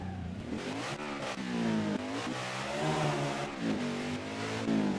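Race car engine revving hard inside the VRChat video game, its harmonic whine climbing and dipping through several loud gear pulls with a brief tire squeal, no talking.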